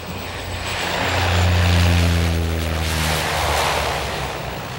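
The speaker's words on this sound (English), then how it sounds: "The otter reverses the pitch on its prop so it can stop on the short makeshift landing strips on the tundra." De Havilland Otter floatless bush plane landing on a short makeshift tundra strip with propeller pitch reversed, a loud, near propeller roar that swells to a peak and then eases off, with no voices.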